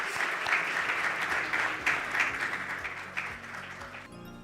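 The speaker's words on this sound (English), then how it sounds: "Please give them another big round of applause" A conference audience at a national green hydrogen event in Namibia applauds with broad, sustained clapping from a large crowd that slowly fades, with a low hum underneath.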